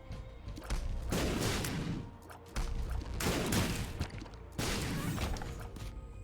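Explosive tears bursting in The Binding of Isaac: Afterbirth+, three loud crackling explosion bursts in a steady rhythm, each a couple of seconds long with brief gaps between.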